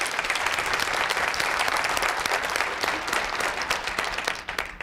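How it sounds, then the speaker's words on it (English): Loud, sustained applause fills a school address event hall as the crowd claps for teachers, a thick even wash of clapping that tapers off slightly at the end. "Let's give them a round of applause for their work"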